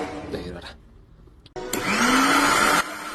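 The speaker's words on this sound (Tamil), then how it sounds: "மிக்ஸி சவுண்ட் கேக்குதா?" A kitchen mixer grinder switches on after a few quieter handling sounds, its motor roaring loud and close with a whine that climbs in pitch, running steadily for about a second before stopping.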